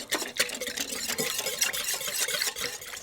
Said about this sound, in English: and whisk it immediately.